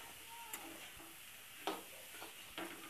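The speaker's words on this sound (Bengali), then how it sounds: "মোচাগুলো দিয়ে ভালো করে ভেজে একটু চিনি দিয়ে" Banana flower (mocha) frying in spices in a pan: a quiet, steady sizzle broken by a few sharp clicks and scrapes of stirring, with no voices.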